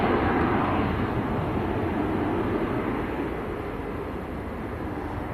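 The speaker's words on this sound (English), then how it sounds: "That was EasyJet to Jersey. It's getting airborne." An EasyJet plane bound for Jersey takes off at Manchester Airport, a steady, loud broadband jet roar that eases off slightly toward the end, with no voices.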